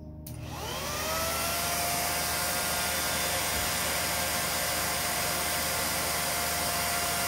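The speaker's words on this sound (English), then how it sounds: "typically it's going to be attached to the vacuum, especially if you're cleaning floors" A Henry HVR200-11 vacuum cleaner with a curved tube attached spins up from silence into a loud, steady whine and rushing airflow that holds constant for several seconds.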